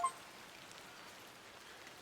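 Rain falls steadily in the adventure game Excavation of Hob's Barrow, a soft, even hiss of drops with a brief faint tone at the start, quiet and without talk.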